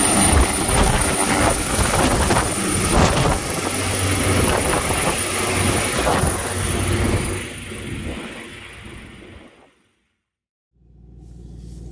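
A loud helicopter roars steadily nearby with whooshing rotor noise as it takes off, then cuts off abruptly into silence before a low rumble returns.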